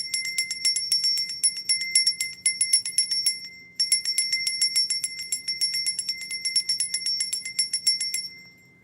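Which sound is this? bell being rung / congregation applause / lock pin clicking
bell being rung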